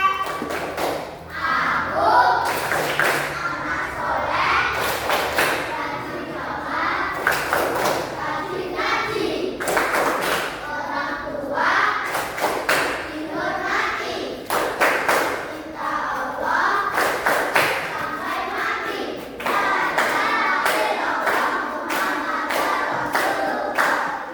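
Children join in a rhythmic clapping chant, tepuk anak soleh, in a classroom: sharp hand claps in a steady pattern alternate with group chanting voices, fairly close and lively throughout.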